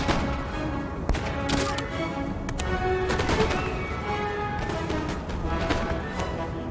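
Musket volleys from Empire: Total War troops crackle in repeated ragged bursts over a steady battlefield din, with several sharp clusters of fire spread through the stretch and no voices.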